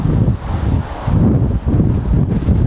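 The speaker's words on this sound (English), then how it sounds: "It's actually extremely windy. I'm hoping the sound isn't getting affected too much, but it's extremely windy." Strong wind buffets a microphone beside the Grand Union Canal during a fishing session, producing loud, low, rumbling gusts that pulse in repeated waves with no voices.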